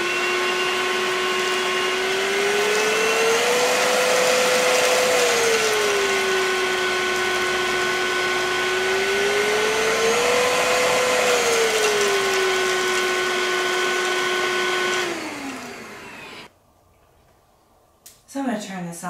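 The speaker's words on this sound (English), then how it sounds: "the power with this vacuum is adjustable" A cordless 2-in-1 stick vacuum cleaner with a HEPA filter runs steadily, its motor whine dipping and rising twice as the power setting changes, then cuts off near the end. A few faint handling knocks follow.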